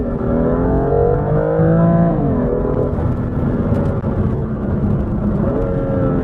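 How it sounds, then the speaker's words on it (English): A BMW M2 downshifts into first gear, its engine note dropping and then rising again in a rough, throaty drone from inside the car, with two brief shifts in pitch. "And we'll downshift into 1st gear here."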